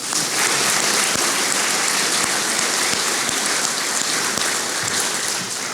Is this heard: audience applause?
yes